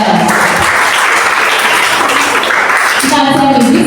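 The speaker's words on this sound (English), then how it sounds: "Round of applause for yourself." An audience at a tech event claps loudly and steadily in a dense burst, and a voice briefly speaks over it near the end.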